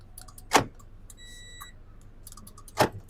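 A Toyota Vios aftermarket car alarm, just rewired, answers its remote with two sharp, loud chirps about two seconds apart, with a thin electronic tone between them, and no talking.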